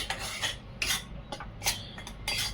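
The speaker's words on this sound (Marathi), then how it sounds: "गूळ पूर्ण वितळला आहे। याला सतत हलवायचा आहे।" Spoon scraping and stirring melted jaggery in a metal pan for sesame chikki, giving quick, close scratchy strokes in an uneven rhythm.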